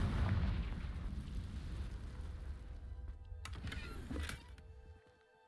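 A Confringo blast spell explodes in a video game with a rumbling boom that rolls on for several seconds, then cuts to a brief crackle before fading into near silence.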